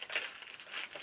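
A tissue packet crinkles briefly as it is pulled out of a small Tory Burch Kira chevron color-block camera bag, giving a short, soft, close rustle with no talking.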